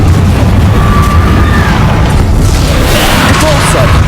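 Confringo explosive spell blasts from Hogwarts Legacy, booming bursts over a dense, continuous rumble of game combat noise, loud and steady throughout with no clear isolated impacts.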